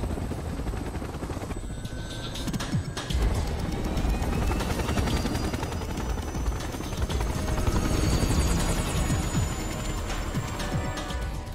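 Helicopter in the Resident Evil 6 video game, a steady loud rotor drone with whirring engine tones filling the whole stretch, close and continuous.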